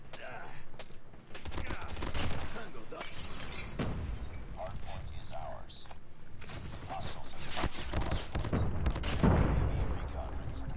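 Purifier flamethrower fire in COD Mobile, with bursts of roaring, crackling gunfire and sharp impacts from close-range combat, dense and continuous, while a player talks excitedly over it.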